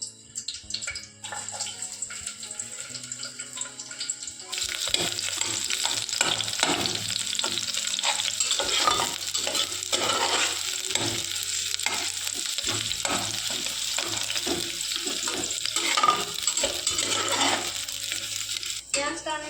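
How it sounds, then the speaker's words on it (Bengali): Onion dropped into hot oil, a quieter pan hum jumping into a loud, bright sizzle partway through, then continuous crackling frying with repeated stirring clatters and scrapes close by. "পেঁয়াজটা আমি ব্রাউন কালার করে একটু ভেজে নিয়েছি"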